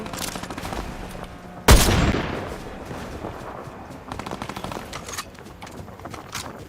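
Gunfire in a Fortnite match: scattered shots, then one sharp loud blast with a decaying tail, followed by quicker bursts of rapid fire at moderate distance.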